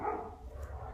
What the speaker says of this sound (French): les chiens se retrouvent à nouveau tout seuls et donc ont tendance à aboyer